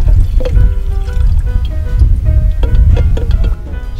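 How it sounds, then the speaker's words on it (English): Water from a hand-pumped jug at a campsite trickles and splashes steadily into a container at close range, loud and continuous, with brief pump strokes and faint dripping as it tapers off. "we got this sweet water pump with our water jug down here. Just pump it with your hand."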